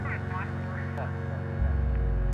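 A low, sustained modular synth drone with steady humming tones and a soft reverberant wash from a Ghost reverb module, swelling slightly louder near the end.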